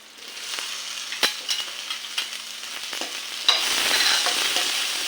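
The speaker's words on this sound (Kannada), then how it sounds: "ಈ ಟೊಮೆಟೊ ಕೂಡ ಒಳ್ಳೆ ಸ್ಮ್ಯಾಶ್ ಆಗುವ ರೀತಿ ಬಾಡಿಸಬೇಕು" Onion and tomato sauté in a pan with lentils for a thajank greens stir-fry, giving a close, steady sizzle broken by spoon clacks and scrapes, then a louder burst of frying near the end.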